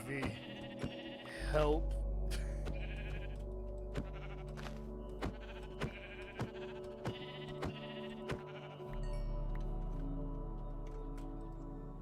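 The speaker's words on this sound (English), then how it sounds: "Sheep." Sheep bleating in the Minecraft video game, several short bleats repeating through the clip alongside game sound effects, with a person speaking briefly.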